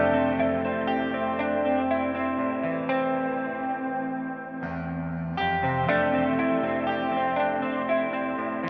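Clean electric guitar through a Toneforge Jeff Loomis amp plugin rings out with heavy reverb, sustained chords and picked notes blooming and trailing off, played alone.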